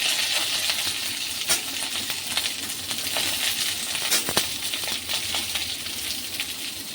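Potato and Malabar spinach stalks frying in a pan, a steady hiss of sizzling oil with occasional sharp clinks and scrapes of stirring.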